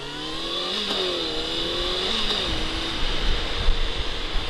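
A shifting 50cc scooter moped engine revs up and down through its gears, a buzzing drone rising and falling steadily over several seconds, close and fairly loud.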